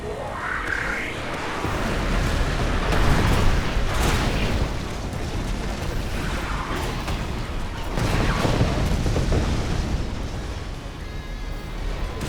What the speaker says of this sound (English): The explosions off that Kodiak are unbelievable.